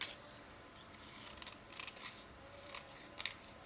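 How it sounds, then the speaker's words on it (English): Paper star shapes being cut out by hand with scissors, a series of quiet crisp snips coming in short irregular bursts, close by with no talking. "I tend to cut them out by hand."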